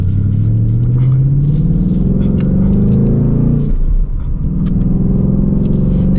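A 2023 Ford Mustang GT coupe with a manual gearbox rumbles loudly and close, its V8 exhaust holding a deep burbling tone that climbs slowly, dips briefly, then settles into a steady drone.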